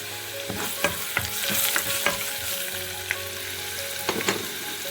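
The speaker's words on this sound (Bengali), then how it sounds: "রসুনটাকে একটু ভেজে নেব" Garlic fries in a wok with salt for a sour amir tenga dish, a loud constant sizzle punctuated by sharp clinks and scrapes of a spatula stirring, with no voices.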